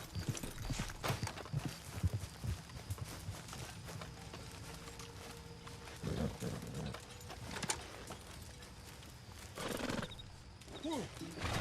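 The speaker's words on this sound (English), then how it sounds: "There's a horse in the way." A horse in the video game Red Dead Redemption 2 snorts and whinnies amid clip-clopping hooves and game ambience, fairly faint, with someone talking over parts of it.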